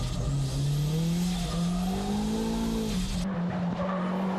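K-Office Nissan Silvia race car with over 300 horsepower on a mountain pass, engine droning loud and close with rising and falling pitch, tires squealing through a corner before the sound cuts to a rougher note.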